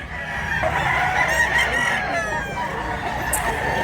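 A rooster, a Japanese bullstag, crows in a rural Cebu province setting, one long drawn-out call over steady outdoor background noise.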